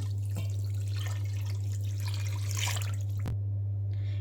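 Water runs and splashes steadily into a pot, with a constant low hum underneath and a sharp knock near the end.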